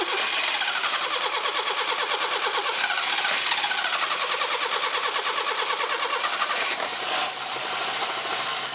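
A barn-find Subaru Brumby ute engine runs after starting, a close, rattly mid-pitched idle that holds steady throughout with a brief dip near the end.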